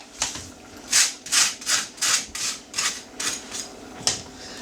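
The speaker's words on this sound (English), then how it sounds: "I'm going to ladle some out into a bowl." A ladle scraping and scooping nettle soup from a pot into a bowl, a series of about ten soft rhythmic scrapes and clinks, close and fairly quiet, with no talking.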